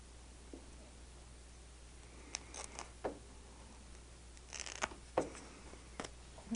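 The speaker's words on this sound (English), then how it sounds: "the first thing I'm going to do is cut the selvage away" Scissors trim the selvage edge from quilt fabric in a quiet room. A few faint, sharp snips sound at irregular intervals over a low background hiss.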